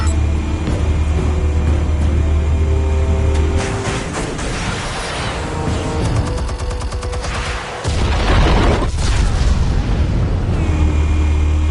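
Explosives detonating in Batman: The Telltale Series, a burst of loud booming blasts and crackling debris over a droning game soundtrack, with a heavy impact midway and rumble continuing after.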